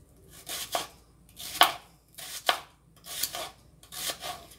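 A knife chops onions rhythmically on a board, five crisp strokes spaced about a second apart, close and clear with no talking.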